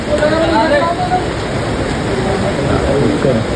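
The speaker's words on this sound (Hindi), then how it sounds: "पानी गिर रहा है भाई हमारे प्रोग्राम में" Heavy rain pouring down outdoors as a steady, dense, loud hiss that fills the whole stretch without a break.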